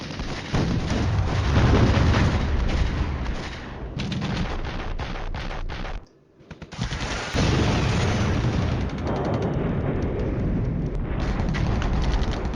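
Artillery shells pound a group of tanks in the Cold War game Flashpoint Campaigns, a dense continuous roar of booming blasts and rapid fire that drops out briefly midway and then resumes just as heavily.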